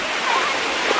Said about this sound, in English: some really steep waterfalls here.